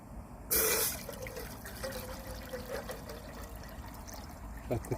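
Water being poured at a wild camp in a nature reserve: a short, bright splash followed by soft trickling and dripping close by, with quiet outdoor background noise and a few light knocks.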